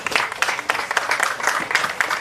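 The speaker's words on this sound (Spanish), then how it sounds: "Un fuerte aplauso, Mainta" A carnival crowd applauds at an outdoor handover event, giving a dense, continuous round of clapping with fairly close, irregular claps throughout.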